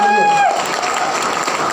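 An audience at a business seminar claps in a steady wash of applause that carries on after a short tone and a voice fade out at the start.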